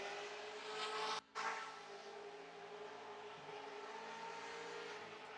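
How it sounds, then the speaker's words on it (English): Corvette engine held hard against the rev limiter at a Great Lakes ProAm drift competition, a loud sustained raspy drone with one brief cut near the start, continuing without talk. "Trying to hear some limiter on Outer Zone 3 from this Corvette."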